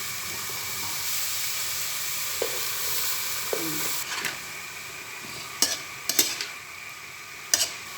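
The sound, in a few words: ampalaya and chicken frying in pan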